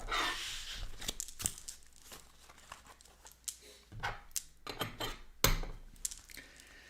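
Unicorn oracle cards being shuffled and handled at close range, with papery crinkles, flicks and sharp snapping taps arriving in irregular bursts over a quiet room background.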